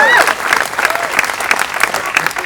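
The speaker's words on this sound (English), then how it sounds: "Give her another round of applause." A crowd at a city council gathering applauding steadily with dense, continuous clapping, fairly loud and close throughout, with some cheering voices mixed in.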